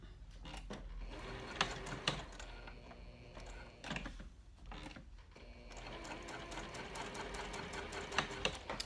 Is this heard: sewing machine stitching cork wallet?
yes